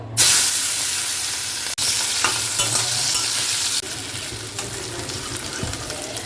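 Oil sizzles loudly and steadily in a pan for sim paturi, a Bengali bean-and-mustard dish, with brief breaks and stirring scrapes close by throughout, no talk.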